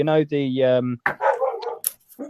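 A dog gives a long, tonal, howling bark, close and fairly loud, followed straight away by a person talking.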